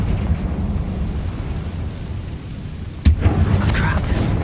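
A Confringo blasting spell explodes in the video game Hogwarts Legacy: after a quiet low hum, one sudden sharp loud blast hits and then rumbles away with crackling debris.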